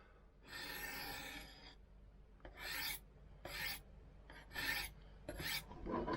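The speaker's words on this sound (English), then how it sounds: "we have zipped it off with the corner of a ceramic stone" Knife edges, including a Victorinox and a Z-Cut in CTS BD1N steel, are stroked across a ceramic sharpening stone up close. One long rasping pass is followed by several short, quick scraping strokes, with no talking.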